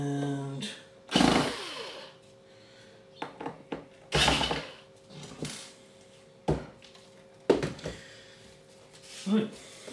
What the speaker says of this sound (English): tighten up all the screws, make sure everything's like you do